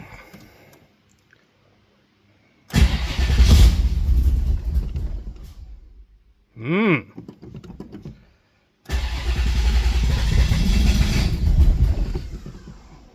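An old engine with a decades-old Holley 670 carburetor cranks and fires, running loudly for a few seconds, then a brief whining crank, then it catches again into a sustained close roar.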